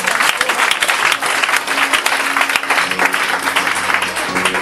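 A church congregation applauds steadily throughout, dense clapping filling the space at close range, with faint singing or voices mixed underneath.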